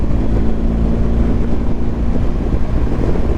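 BMW R1250GS motorcycle with a 1250cc engine riding along, a loud steady engine drone mixed with heavy wind rush across the whole stretch, no talk.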